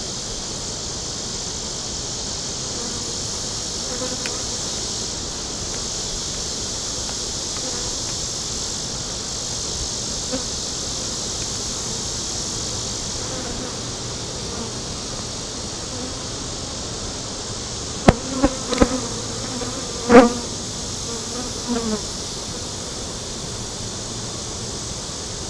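Honeybees buzz around an open hive full of brood and pupated larvae, a steady, close, high-pitched hum that runs throughout, broken late by a few sharp clicks and knocks of frame handling, with no talk.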